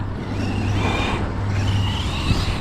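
A Traxxas XRT RC car's electric motor whines as it accelerates on gentle throttle, a steady high rising tone over a continuous low drone, fairly close and loud with no talking.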